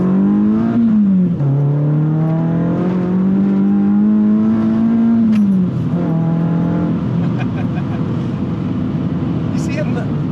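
Renault Clio Trophy engine revs hard while driving, a strong tonal drone climbing up the rev range, dropping at a gear change, then climbing again, loud and close over road noise.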